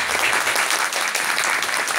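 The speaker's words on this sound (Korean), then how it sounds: "박수 나올 줄 모르고 그냥 시작했습니다" Audience applause fills a South Korean government youth-employment presentation hall after the Minister of Employment and Labor is introduced, a dense, steady clapping crowd with no talk over it.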